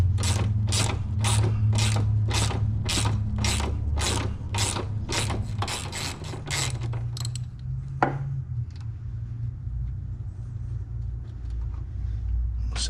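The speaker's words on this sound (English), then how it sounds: "we're going to loosen up this strut tower with these bolts here" A ratchet loosens the strut tower bolts on a Camaro, producing a steady run of about a dozen sharp metallic clicks. A low mechanical hum continues under it and after the ratcheting stops.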